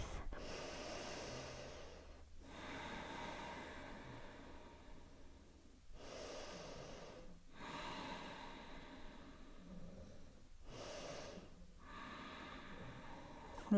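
Deep, slow exhalations during yoga breathing practice, three long airy breaths separated by brief pauses, close and soft in a quiet room, with no speech.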